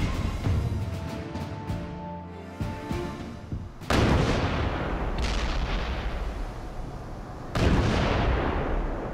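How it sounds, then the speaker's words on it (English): A massive 1943 naval bombardment of Tarawa: a rumbling low barrage with scattered reports is broken by two heavy, booming blasts, each trailing off into a long roar. "the American attack begins with a massive naval bombardment"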